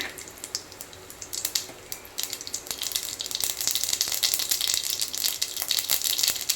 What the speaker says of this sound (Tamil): எண்ணெய் காஞ்சிருச்சு கடுகு போட்டுக்கலாம் கடுகு பொரியட்டும்